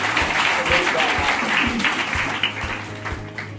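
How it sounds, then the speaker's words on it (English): An audience at a Tata Consultancy Services GoIT event in India gives a round of applause, with loud, steady clapping that thins slightly toward the end, over a low background hum. "So another round of applause for you"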